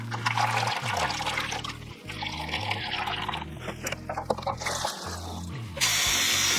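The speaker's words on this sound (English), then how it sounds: "I can just let it overflow the inner tub" Water pours and trickles over the rim of an inner tub during the washing of old Norwegian WWII postage stamps, a steady liquid rush with gurgling swells and one louder surge near the end, close by and with no talk.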